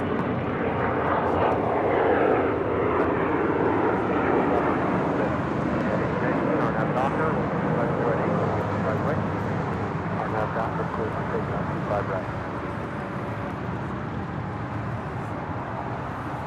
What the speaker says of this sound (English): Coming in from Newark, United Airlines Flight 2226 and the 757-200, 25 years of age